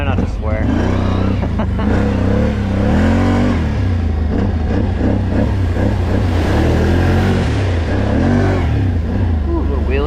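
An engine revs hard and surges as the vehicle lifts into a small wheelie, loud and steady throughout, with people talking excitedly over the noise.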